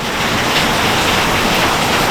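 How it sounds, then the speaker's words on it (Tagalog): Dense, steady roar of heavy typhoon rain with a windy, wash-like hiss, loud and continuous throughout. "Grabe, napakalakas ng ulan."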